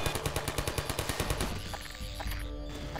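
Rapid automatic turret gunfire in Half-Life 2, a steady rattling burst of evenly spaced shots for about a second and a half before it gives way to a dense, rumbling roar of game noise.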